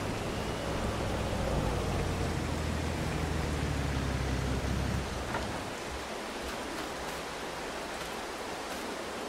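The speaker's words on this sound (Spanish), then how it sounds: "A llover. A llover toca." Steady rain pours in Farming Simulator 22, a broad continuous hiss that fills the scene, with a low engine-like rumble underneath for the first half before it drops away.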